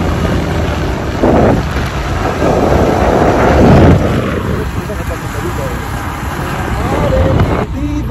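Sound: sandstorm wind during motorbike trip

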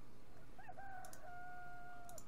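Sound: rooster crowing in the video game Petka and Vasily Ivanovich Save the Galaxy

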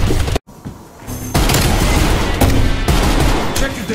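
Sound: gunfire in Call of Duty Cold War video game

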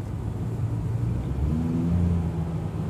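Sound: 2014 Kia Soul engine while driving

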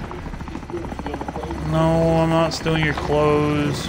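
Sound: helicopter flying in a video game (Call of Duty: Modern Warfare)

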